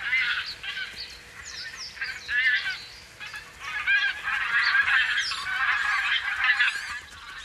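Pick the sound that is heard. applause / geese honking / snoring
geese honking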